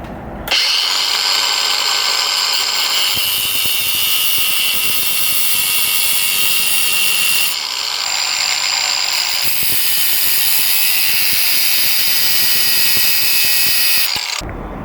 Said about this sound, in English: grind the bottom section flat, grind the top section flat